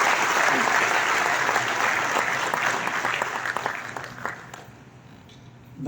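An audience at a community crafts launch event claps steadily for about four seconds. The sustained applause then tapers off and ends near the close.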